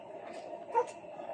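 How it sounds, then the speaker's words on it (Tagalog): A single short dog bark, faint and distant, rises briefly above a quiet outdoor background. "May aso pa."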